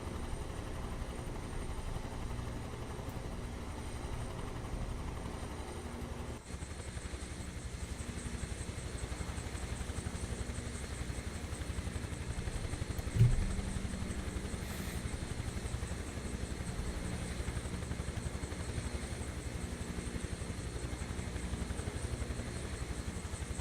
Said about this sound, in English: every time I'm flying this helicopter